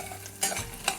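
Peanuts sizzle in butter in a pan, with brief bursts of frying and stirring against a low, steady kitchen hiss; the sound is moderately close and no one speaks.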